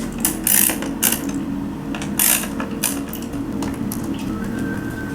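Screws being removed from the air filter cover of a 2020 Kawasaki Z H2 supercharged streetfighter motorcycle, close metallic ratcheting clicks and scrapes in short bursts against a quiet workshop hum.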